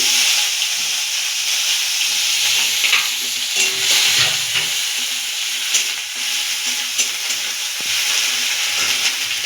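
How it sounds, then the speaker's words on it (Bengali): Chopped onions hit hot oil in a wok, oil left over from frying eggs, and set off a loud, steady, close sizzle with light stirring scrapes, with no speech. "সেই তেলে পেঁয়াজ কুচি দিয়ে দিলাম"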